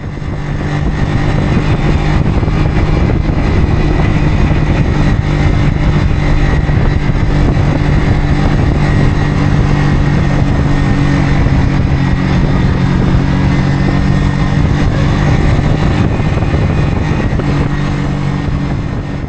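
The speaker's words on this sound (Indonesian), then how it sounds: "bisa kedengaran kan, saya cuma ngandelin engine brake dari tadi." Kawasaki W175 motorcycle engine braking down a long hill, a loud steady engine drone with constant wind rush that holds unbroken throughout, no talking.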